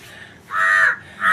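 A crow caws twice, loud and close, each call a harsh drawn-out rasp separated by a short pause, heard alone outdoors.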